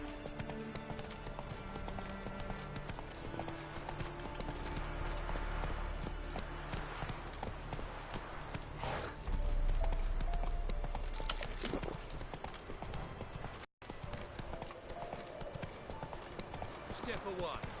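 Hooves of Roach, the horse in The Witcher 3, clip-clop in a steady gait through a busy game soundscape, with voices talking over much of it.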